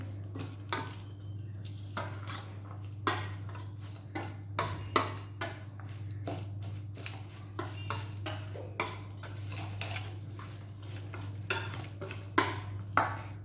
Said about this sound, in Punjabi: ਹੁਣ ਆਪਾਂ ਪਹਿਲਾਂ ਇਹਨੂੰ ਚੰਗੀ ਤਰ੍ਹਾਂ ਮਿਕਸ ਕਰ ਲਾਂਗੇ